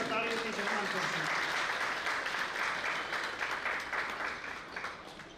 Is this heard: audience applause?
yes